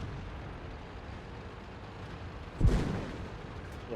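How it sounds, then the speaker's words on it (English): An enemy SP1C tank fires a single gun shot in World of Tanks, one sudden low boom with a short rumbling tail over a quiet engine hum. "The SP1C tries to put a shot into us."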